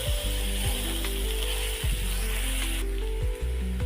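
Crushed onion frying in a pan for a masala okra curry, a steady close sizzle broken by a few sharp scraping clatters of a utensil against the pan.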